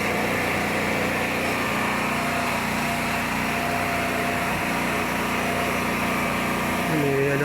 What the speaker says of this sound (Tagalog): May generator pala sila.